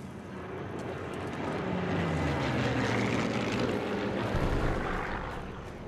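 Propeller aircraft passing overhead in Sniper Elite 3, a broad droning engine roar that swells and holds steadily across the whole stretch.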